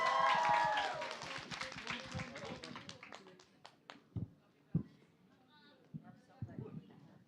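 Applause for the Satu Waktu Production performance group: a dense burst of clapping from an onstage audience that quickly thins to a few scattered claps, with a speaker's voice over it.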